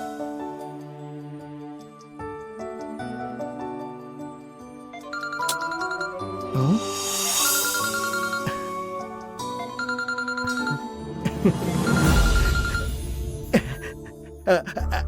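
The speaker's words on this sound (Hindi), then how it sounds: "ये फोन क्यों नहीं उठा रही?" A telephone ringtone plays as a melodic electronic tune that repeats across the clip, mixed with background music and dramatic sound effects.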